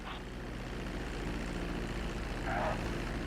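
A propeller airplane engine in GTA 5 hums steadily as the plane comes in to land, a continuous moderate drone with a faint higher whine near the end and a soft voice talking underneath.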